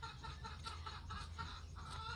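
Chickens and ducks clucking in short bursts over a low, steady background hum, with several birds calling intermittently.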